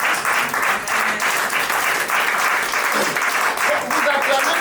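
Congregation at a gospel baptism service in Nantes applauding steadily, a dense, loud wash of clapping that runs the whole time, with voices mixed into the crowd noise.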